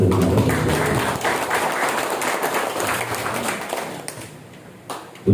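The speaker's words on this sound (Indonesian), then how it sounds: "Tepuk tangan untuk kader posyandu." Applause from an audience packed into a village hall, dense steady clapping that tapers off toward the end.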